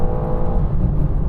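A rear-wheel-drive BMW M4 Competition launching hard under launch control, its engine roaring loud, close and continuous as it accelerates.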